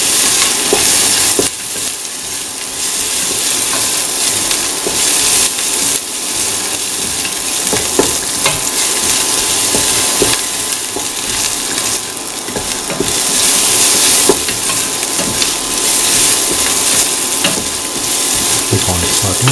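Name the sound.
shallots and garlic sautéing in a pan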